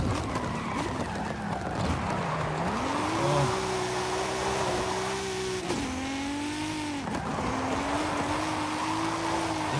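A race car on race tyres drives hard over tarmac in a racing game, engine revving up and down through gear changes with tyre squeal and skid noise, loud and close with no talking.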